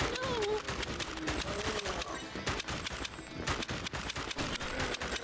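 Rapid arcade-style gunfire from The House of the Dead on Nintendo Switch, dense bursts of shots filling the whole stretch with game music and effects behind, loud and continuous.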